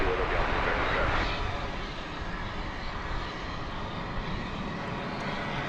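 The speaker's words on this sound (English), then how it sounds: "It's a cargo plane." An Ameriflight cargo plane flies past at DFW Airport at night, its engine roar a steady broadband drone that swells briefly near the start, then holds at a constant level.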